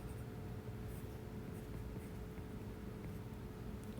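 Chalk or marker strokes trace out an equation with units during a mechanics of materials lecture, giving faint, steady scratching over a low room hum with no talking.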